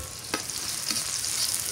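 Ginger fries in a pan on a clay stove with a faint, steady sizzle and a couple of brief stirring scrapes, with no talking.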